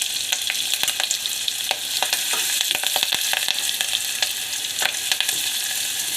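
Green masala paste and curry leaves fry in oil for kadhi, giving a steady close sizzle with frequent sharp crackles and pops, no voices.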